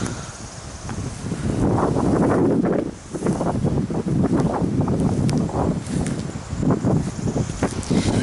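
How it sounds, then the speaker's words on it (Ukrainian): Steady wind blowing and buffeting across the microphone, with rustling and bursts of low rumbling gusts throughout. "Дуже холодно, вітер."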